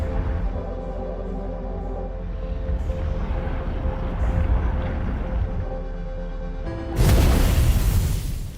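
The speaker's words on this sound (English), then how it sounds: "explosion it may be" A video game explosion in Outer Wilds bursts in loud and broadband near the end, over a steady low rumbling drone and tonal hum that fill the space before it.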